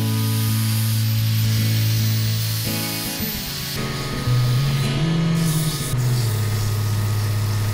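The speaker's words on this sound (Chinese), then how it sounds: "因为你还要用磨砂机来施作" A power sander whirs steadily with a droning, slightly shifting pitch, running continuously up close, sanding a handmade fishing float.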